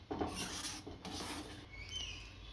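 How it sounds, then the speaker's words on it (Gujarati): A spoon stirs cardamom powder into vermicelli kheer in a pot, producing soft scraping and rubbing strokes close by at a low level, with no talking. "હવે આપણે આની અંદર એલચી પાવડર નાખીશું આને મિક્સ કરી દઈશું"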